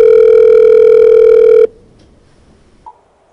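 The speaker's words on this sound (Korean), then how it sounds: "전화로 연결을 시도합니다." Loud steady ringback tone of a phone video call connecting through an AI-enabled TV set-top device, a single sustained tone that cuts off abruptly, followed by near silence and a faint click.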